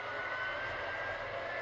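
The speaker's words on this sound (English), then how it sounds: "Up the diesel engine level because I have the speed." Model train diesel locomotive engine on a home layout, a faint continuous droning hum with a steady tonal whine, even in level throughout, with no talk over it.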